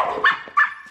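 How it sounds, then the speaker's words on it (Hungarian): A dog gives two sharp barks close by, each short and loud, separated by a brief pause over a quiet indoor background. "azt kell, hogy mondjam, hogy a kutya igenis tud ugatni."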